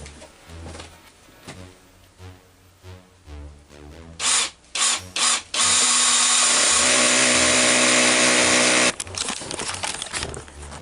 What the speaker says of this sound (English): I'll drill that in.